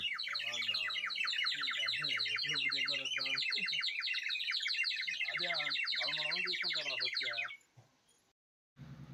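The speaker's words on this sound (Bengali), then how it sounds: "এটি মাটির তৈরি একটি পাখি, যেটাতে জল ভরে দিলেই আপনি পাখির আওয়াজ বাজাতে" A clay bird water whistle filled with water warbles a continuous bird-like trill, bright and fairly loud and close, running steadily for about seven seconds before stopping abruptly.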